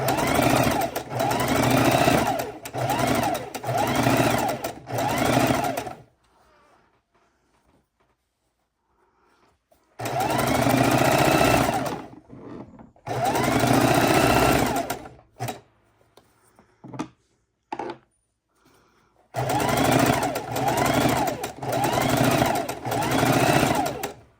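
A sewing machine stitches quilt border strips in three loud, rapid bursts of mechanical whirring, separated by quiet pauses with small clicks and handling noises.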